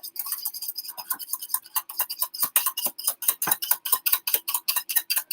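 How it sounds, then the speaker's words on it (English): A whisk beating gelatin mixture in a bowl for a frozen jello pie, a quick steady series of light ticking clicks against the bowl, close and fairly clear with no talking. "we want to mix this really well with the whisk"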